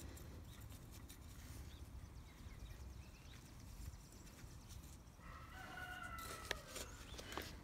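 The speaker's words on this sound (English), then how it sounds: "I hear one of the roosters in the background making his presence known." A rooster crows faintly in the distance outdoors, a single drawn-out call near the end, heard over a steady low background rumble.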